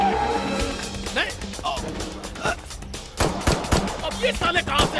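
Gunfire in a Hindi-dubbed zombie action film sounds as sharp shots and bursts scattered throughout, mixed with people talking over the shooting.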